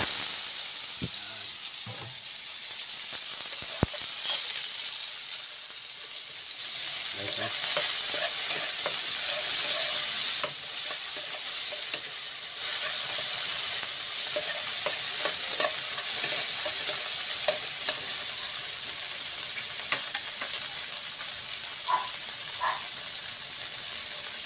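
Tomatoes and onion sauté in a frying pan for a sardine dish, a steady close sizzle with occasional stirring scrapes and clinks that grows louder partway through, with no talking.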